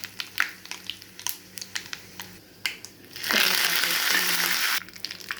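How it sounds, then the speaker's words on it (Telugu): Curry leaves and dried chillies hit hot tempering oil and set off a loud, steady sizzle that holds for about a second and a half, after scattered crackles and pops from the spices already in the pan. "కరివేపాకు పోపు మిరపకాయ వేస్తున్నా."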